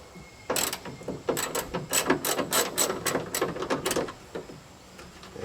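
A ratchet wrench turning a 10 mm tail light bolt on a Toyota Tacoma, a run of quick metallic clicks in uneven bursts with short pauses, close and fairly loud.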